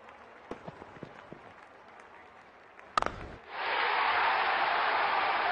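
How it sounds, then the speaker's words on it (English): A cricket stadium crowd at an IPL 2024 match between Chennai and Punjab erupts after a six, with a few isolated claps, then a sharp burst and a loud sustained roar of cheering and applause. "Crowd going mad here."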